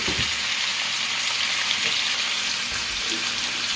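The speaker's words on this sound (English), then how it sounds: "the next thing that we're going to do is saute this meat, or fry the meat" Meat frying in batches in a pan for homemade New Mexico posole, a steady, close, unbroken sizzle with faint clinks and stirring underneath.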